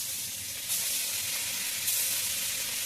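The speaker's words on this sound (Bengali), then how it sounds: "তেল গরম হয়ে গেছে, এক এক করে মাছগুলো আমি ছেড়ে দিচ্ছি।" Amudi fish fry in hot oil in a wok, giving a steady close hiss and sizzle that swells twice as pieces settle in.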